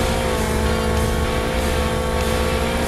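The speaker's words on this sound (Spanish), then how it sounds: "estoy acelerando lo más rápido posible para poder culminar esta carrera" A police formula car accelerating in a racing video game, a dense, loud engine roar that holds steady and continuous throughout with no pauses.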